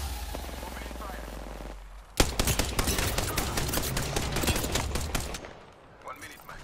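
Gunfire in the video game Apex Legends, a dense burst of rapid automatic shots lasting several seconds, loud and close after a quieter lead-in.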